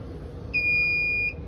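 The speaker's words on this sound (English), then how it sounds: "Once you hear that beep and it says success, you know it's auto level." An RV auto-leveling jack system gives a single steady electronic beep lasting under a second, clear and moderately loud above a low background rumble.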